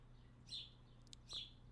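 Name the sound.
sparrows chirping outside the window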